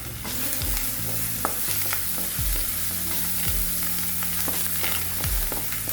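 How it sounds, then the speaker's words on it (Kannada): Onions and curry leaves frying in a pan, a steady close sizzle with intermittent stirring scrapes, no voices. "ಕರಿಬೇವು ಹಾಕೊಂಡು ಎಲ್ಲ ಫ್ರೈ ಮಾಡ್ಕೊತೀನಿ."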